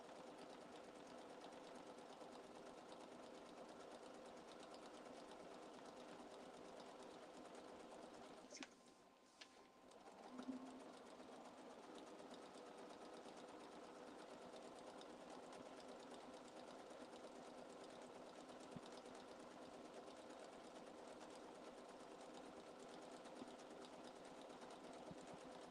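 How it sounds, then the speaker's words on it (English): A sewing machine stitches steadily down the folded-over fabric tail of a quilt show bunting, a continuous close mechanical whirr that runs almost unbroken, with one brief pause partway through. "I'm just going to fold that over in half and then stitch all the way down."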